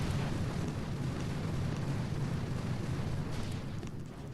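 Rumbling barrage explosions from a strategy video game, a continuous heavy roar of blasts that stays loud and dense throughout before easing slightly at the end.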